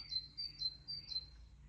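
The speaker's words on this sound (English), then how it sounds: "If you know what bird is singing in the background, just put it in the comment section." A bird sings faintly in the background during motorcycle suspension work, giving about five short, high chirps at an even, quick rhythm over a low, steady hum.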